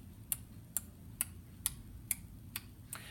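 A metronome set to 120 beats per minute ticks seven times at an even two beats per second, each click sharp and close over a low background hum, with no voices.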